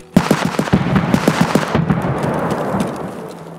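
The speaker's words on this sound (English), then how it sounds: "The nade launcher is, like, targeting someone." A grenade launcher fires in the Escape from Tarkov video game, a loud, rapid string of about a dozen booming shots that trails off into a fading rumble.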